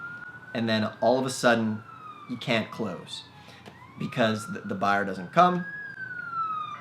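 A police car siren wails outside, a steady rising and falling tone running faintly under someone speaking indoors.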